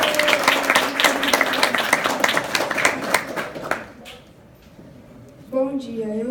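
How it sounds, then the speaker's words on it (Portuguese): An audience gives a burst of clapping of several seconds with crisp, close handclaps that fade out, then a voice starts speaking. "Merecem palmas, merece não?"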